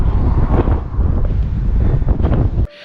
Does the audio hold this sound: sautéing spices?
no